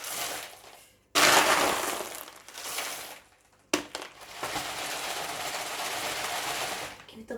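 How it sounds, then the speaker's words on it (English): Leca clay pebbles are poured into a plant pot, starting with one loud burst of rattling, clattering grains and then a second longer pour after a short pause, the sound close and dense. "I will fill the rest with leca."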